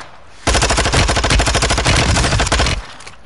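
A sudden burst of rapid automatic gunfire in a video game, loud and close, lasting a couple of seconds before cutting off abruptly.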